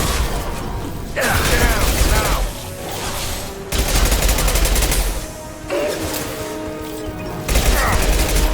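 Impact shot weapon fire in the video game Mass Effect 2, with loud bursts of gunfire and mechanical clanks and ratcheting in repeated waves, with combat voices mixed in.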